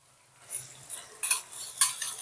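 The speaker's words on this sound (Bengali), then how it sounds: "এবার সর্ষে আর ঢ্যাঁড়সটাকে ভালো করে একসঙ্গে ভালো করে মিশিয়ে নেব।" Mustard and okra being stirred together in a pan for a yogurt okra dish, giving soft scraping spoon strokes with two sharper metallic scrapes near the end, close and fairly quiet.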